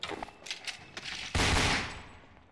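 Gunshots in Garry's Mod roleplay, a few faint sharp cracks followed by one loud, close blast with a long decaying roar.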